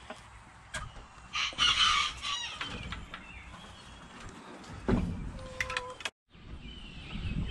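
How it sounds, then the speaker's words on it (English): A single Buckeye Bantam rooster in a backyard chicken yard clucks and then crows loudly nearby, with some wing flapping and brief background sounds between calls. "All I have left is this one rooster here, cockbird."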